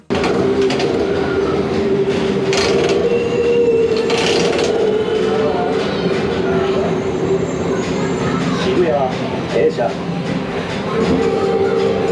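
Japanese arcade train-driving game playing in a busy arcade, a steady loud rumble of train and rail sounds with clattering and brief squeals, mixed with crowd noise and scattered speech throughout.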